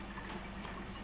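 Turpentine dripping and trickling from the water-cooled condenser pipe of a tar kiln, a faint, steady wet patter with low rumble beneath and no talk.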